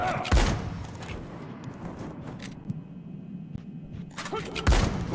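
Gunfire in the video game R.E.P.O.: a few sharp shots and heavy thumps, one near the start and others near the end, over a low rumbling game background.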